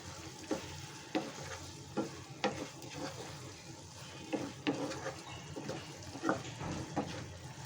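Prawns cook with sponge gourd in a pan, a soft steady sizzle punctuated by regular stirring strokes roughly every second, fairly quiet and close.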